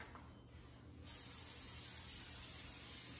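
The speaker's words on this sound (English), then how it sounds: "When I spray my cookie sheet, I spray it on my door to my, just right down here, the door to my dishwasher." Cooking spray hissing from a can onto a metal cookie sheet held over an open dishwasher door, starting faint and then jumping to a steady, close, even spray.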